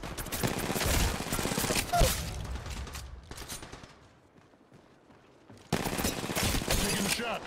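Gunfire in the battle royale shooter Apex Legends crackles in dense, rapid bursts, goes quiet for a few seconds, then resumes loud and close.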